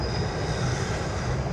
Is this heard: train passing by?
yes